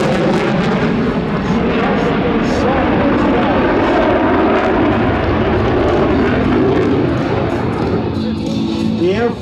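A jet aircraft roars past at the First State Airshow in Dover, Delaware, loud and continuous with a broad rushing engine noise; a voice speaks over it.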